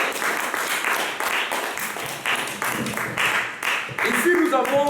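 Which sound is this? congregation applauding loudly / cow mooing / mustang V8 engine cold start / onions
congregation applauding loudly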